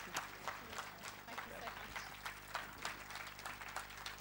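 An audience at the Jaipur Literature Festival 2015 claps after a talk on Sophia Duleep Singh, scattered rhythmic hand claps that rise and fall over a low steady hum.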